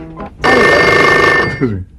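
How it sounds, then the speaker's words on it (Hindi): A loud telephone bell rings once in a sustained electric trill, briefly framed by speech before and after. "टेलीफोन"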